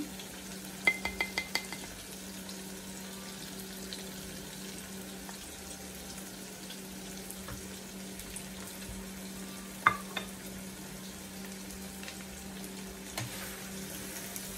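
Green chillies and spices fry quietly in a pan under a soft, steady sizzle, with occasional sharp clinks and scrapes of a utensil stirring against the metal.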